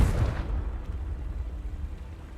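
A Confringo spell explosion in the video game Hogwarts Legacy: one deep, heavy boom that starts loud and settles into a low, sustained rumble, with no talking.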